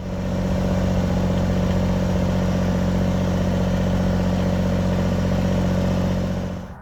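A Kubota BX compact tractor runs steadily at a constant idle, a loud, even mechanical drone with a clattering edge that holds for several seconds before fading out abruptly at the end.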